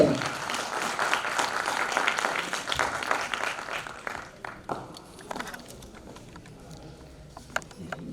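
Loud audience applause for Vikram ji at a business open-plan meeting in Lucknow, dense clapping for about four seconds before thinning into scattered claps.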